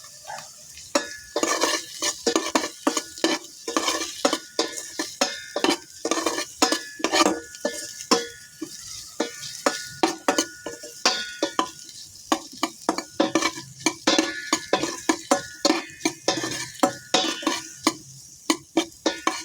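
Duck with lemongrass sautés in a pan for ginataang pato, with a spatula scraping and clacking against the metal in a fast irregular rhythm over a constant low sizzle, close up and with no one talking.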